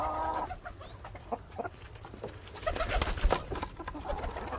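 Small birds in an aviary flutter and chirp close by, with scattered clucking calls and brief wing flaps over a low background hum.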